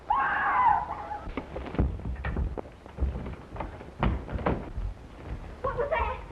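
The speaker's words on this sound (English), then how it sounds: "Where did that scream come from?" A short high scream bursts out at the start of a 1932 mystery crime film scene, then thumps and knocks follow, with a brief second cry near the end.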